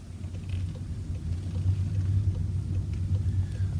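Inside a 2019 VW e-Golf electric car on the move, a low, steady road and tyre rumble hums quietly with no engine note and no voices.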